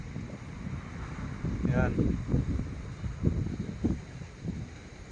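Strong gusting wind on open water from a boat, roaring broadband noise buffeting the microphone, with someone talking over it throughout.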